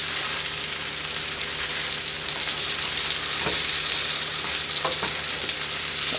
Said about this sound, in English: Some of the tomatoes are blistering, some of them are staying whole